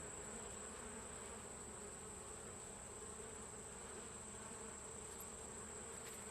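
Honeybees buzzing steadily in a dense, continuous swarm drone at an open Layens hive during an inspection, close and even throughout with no voices.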